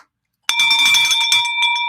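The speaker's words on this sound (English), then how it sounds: "Ring that bell then, huh?" A bell rings loudly and close after a moment of silence, a bright ringing tone with a rapid clapper rattle that sustains and wavers to the end.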